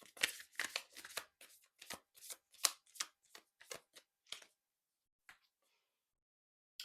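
Tarot cards being shuffled by hand, a run of crisp, close riffling flicks and taps in quick succession that thin out and stop, leaving near silence.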